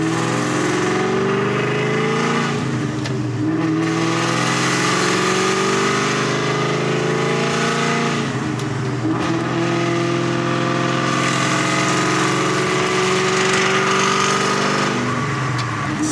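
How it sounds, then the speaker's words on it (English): A loud, aggressive cammed car engine with a Borla ATAK exhaust and lumpy, choppy note rises and falls through repeated revs while driving, close and continuous. "It's almost like the sound of my car is so loud and aggressive"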